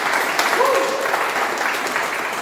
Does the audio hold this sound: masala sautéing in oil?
no